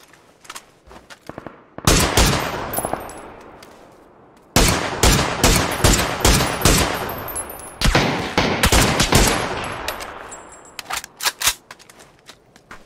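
Bursts of gunfire in a PUBG match crack out in several rapid volleys, loud and sharp, with short pauses between strings of shots and a few scattered single shots at the end.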